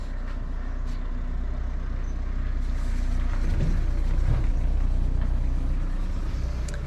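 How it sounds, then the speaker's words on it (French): A car passes along a quiet country road, its low engine rumble and tyre hum swelling steadily toward the middle and staying close and moderately loud, with no talking. "on va laisser passer la voiture"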